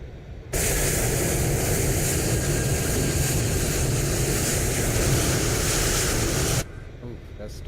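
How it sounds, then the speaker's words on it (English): Jet engine number 2 spooling up on an Aerosoft CRJ in Microsoft Flight Simulator, a loud, steady broadband roar that begins abruptly, holds for about six seconds and cuts off, with no talk over it. "We'll go ahead and roll on engine number 2."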